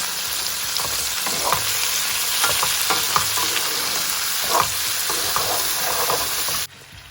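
Onion mix sizzling and frying on high heat in a pan, a steady loud hiss with faint stirring clatter throughout, cutting off abruptly near the end.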